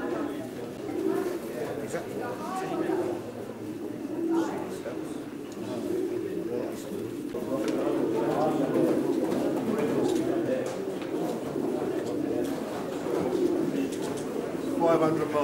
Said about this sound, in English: There's over 500 birds in the hall today.